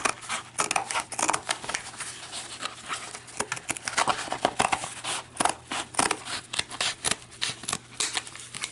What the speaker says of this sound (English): I'm going to take my my scissors and cut a little square here